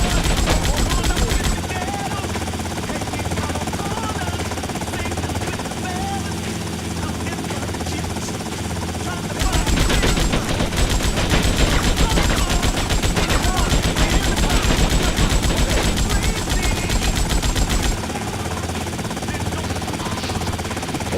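Rapid, dense video-game gunfire from the GTA Vice City shooting gallery, a continuous loud rattle of machine-gun bursts over background music, growing heavier midway before easing off.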